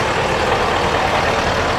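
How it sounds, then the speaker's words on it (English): A fire truck engine runs steadily in pump gear while its pump recirculates water from the tank. It makes a continuous, even mechanical rumble and hiss at moderate level, with no talk. "once he puts that truck in pump gear, it's opening the tank to pump and recirculating water for the operator"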